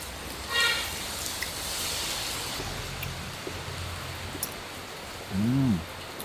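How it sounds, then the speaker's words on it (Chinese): Steady rain falls outdoors in rural Hebei, a soft, even hiss throughout, with a couple of brief voices and a short tonal sound near the end. "今天下雨啊"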